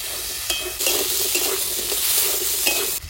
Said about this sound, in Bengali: প্রথমে লঙ্কা দিয়ে দেবো তেলের উপরে, কাঁচা লঙ্কা চিরা, আলুটা সামান্য ভেজে নেব